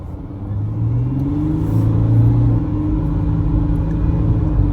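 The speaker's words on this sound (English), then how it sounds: "A car this size should not be accelerating this quickly." A 2025 Ford Ranger Wildtrak V6 engine revs up and accelerates steadily, a loud continuous rumbling drone with rising pitch and no voices.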